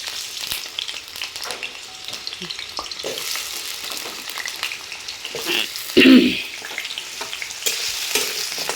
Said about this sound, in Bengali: এখানে তেলটা আমার গরম হয়ে আসছে, আমি আলুটা একটু এখানটা ভেজে নেব।